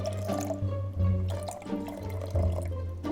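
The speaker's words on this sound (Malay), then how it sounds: "So kita masukkan dulu air." Water poured into a cooking pot to make rice porridge for a baby, a continuous splashing, trickling pour close by with a low hum underneath.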